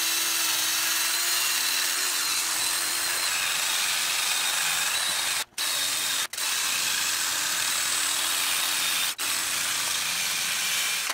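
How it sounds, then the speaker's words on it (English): A power buffer polishes corrosion off the inside of a wheel, giving a steady, loud, hissing whir that runs nearly unbroken, cut by three brief drops where the tool pauses. "I will take our buffer and we'll go around the inside and focus on the corrosion."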